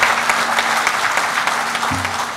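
A crowd applauds state legislators at the grand opening of the Choctaw Nation campus headquarters, with thick, sustained clapping throughout and a faint steady hum underneath.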